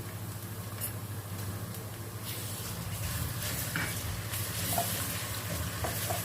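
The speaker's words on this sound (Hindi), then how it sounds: "लहसुन का कच्चापन खत्म करेंगे। 2 मिनट के लिए इसको भून लेंगे।" Continuous sizzling of garlic paste frying in a pan with occasional light stirring scrapes, close and moderately loud, no talking.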